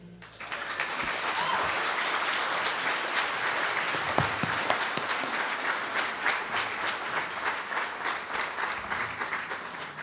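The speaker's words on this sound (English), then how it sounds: "Give him a round of applause as well." A graduation concert audience at Dunboyne College of Further Education applauds, sustained dense clapping that swells in quickly and carries on steadily, with occasional voices and cheers mixed in.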